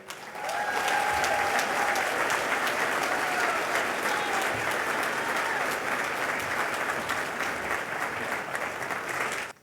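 Gala dinner audience applauding as General Joe Votel is welcomed to the stage, a full roomful of sustained clapping that swells quickly and holds steady for several seconds.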